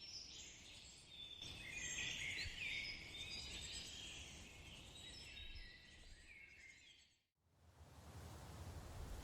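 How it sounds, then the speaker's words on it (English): Faint high-pitched chirping of night insects drifts in and out over a low, quiet background rumble, with no voices. "The chirping of insects blends with the gentle flapping of thousands of bats"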